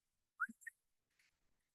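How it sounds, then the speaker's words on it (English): A person gives a short, faint whistle of two quick chirps in a quiet room, followed by soft background noise. "I whistle to her"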